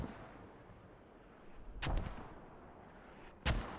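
Video game mortar fire during a competitive match gives two heavy booming impacts a little over a second apart over a low, rumbling battlefield background, with no voices.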